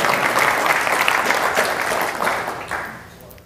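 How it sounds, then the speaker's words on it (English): An audience at a transport industry meeting gives a dense round of clapping that holds steady and then fades out over a few seconds. "I'd like to give you applause. Please stand and be applauded."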